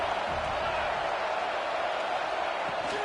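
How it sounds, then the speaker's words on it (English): Football stadium crowd before a game, an early-season home crowd: a steady, dense roar of many voices at moderate level, continuous throughout with no single standout cheer. "this crowd is fired up. Listen to this noise here."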